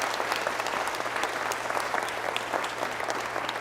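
Sustained applause from a town hall audience on race in the Yakima Valley for the panel members, a full, even clatter of many hands over a low steady hum.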